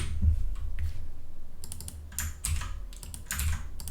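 Typing on a computer keyboard while entering a coded string for a Caesar cipher exercise: quiet, close clusters of key clicks in irregular bursts, with a low hum underneath and no talking.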